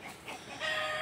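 Chickens cluck and murmur close by in a vegetable garden, short throaty calls running together over a second of outdoor noise.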